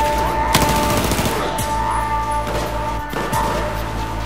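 Rapid bursts of automatic gunfire and sharp gunshots in the Battlefield 4 shooter game, set in the Kunlun Mountains, loud and close with several distinct cracks over a continuous battle din.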